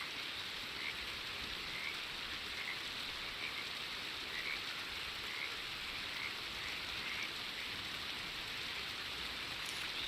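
Steady rain falls in the Red Dead Redemption 2 video game, a constant soft hiss, with faint frog croaks sounding through it and no talking.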